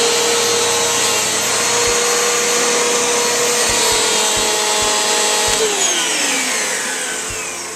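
A Eureka Whirlwind 3272AV bagless upright vacuum cleaner runs steadily with a loud, close motor roar and high whine, a few low thumps as it moves, and begins winding down near the end; no speech.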